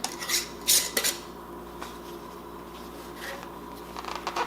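Metal lids are set onto canning jars of kale: a few bright clinks and metallic clatters early on, then quieter scraping and rubbing, with a little more clinking near the end.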